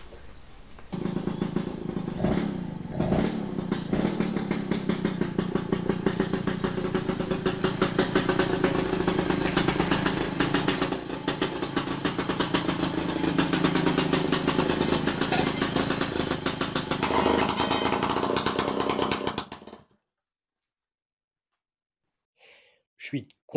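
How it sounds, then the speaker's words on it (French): A moped engine runs loudly and continuously through a homemade exhaust pipe, with a rattling, buzzy exhaust note for about twenty seconds, then cuts off into near silence. "ça commence à ressembler à un pot d'échappement. Et puis, ça a un petit son."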